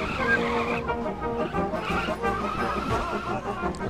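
A car skidding in the World War I game Valiant Hearts: The Great War, with a continuous tire squeal and engine noise loud and close throughout, no speech over it.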